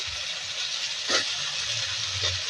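Chopped onion sizzling in hot oil while cooking a spiced snail curry, a steady broadband hiss throughout with a louder sputtering burst midway and a smaller one near the end, no talking.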